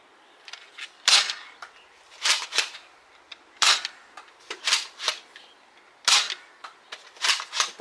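An X-Shot Skins Dread toy dart blaster fires foam darts in a quick series of sharp cracking pops, grouped in pairs and bursts over several seconds, loud and close with no talking.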